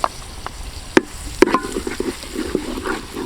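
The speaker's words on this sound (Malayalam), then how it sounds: "എന്നിട്ട് ഈ ഒരു തക്കാളി വേവുന്നവരെ നമുക്ക് ഒന്നുകൂടെ വഴറ്റണം." Tomato and onion sauté in oil in a pan, giving a continuous moderate sizzle with several sharp clacks and scrapes of a spoon stirring the mixture.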